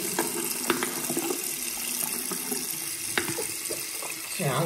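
Tap water runs steadily onto a Huawei P40 Lite phone, a continuous hissing splash with occasional louder drips and spatters, close and unbroken throughout.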